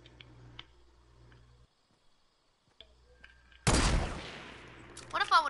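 Gunfire in a video game shooter match: a loud burst of shots erupts after quieter moments, followed by rapid crackling reports, with players talking around it.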